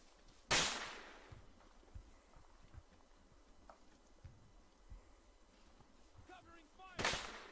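Gunfire in the ARMA 3 military video game: two loud sharp shots about six seconds apart, with faint game ambience and scattered quiet ticks in between.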